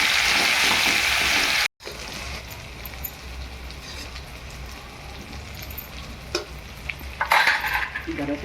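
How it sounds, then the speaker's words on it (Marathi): Onion dropped into hot oil for a brinjal masala sets off a loud sizzling burst, then settles into a steady, quieter frying hiss with occasional utensil clinks and stirring scrapes. "आता हा कांदा ठेवलाय ना, आपण टाकायचं तेलात"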